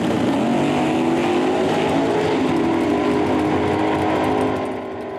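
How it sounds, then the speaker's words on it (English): Drag racing cars roar down a quarter-mile strip at a wheel-standing event, a loud sustained engine blast with rising pitch that holds for several seconds before easing off near the end, with no talk. "We're going to see some of these, some of these guys blasting down the strip, some of these quarter-mile gladiators."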